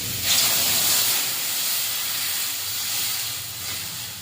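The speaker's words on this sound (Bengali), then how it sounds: "ঝোলটা ফুটে গেছে" Bengali koi fish curry gravy boils in a pan, giving a steady close hiss and bubbling that keeps going without a break.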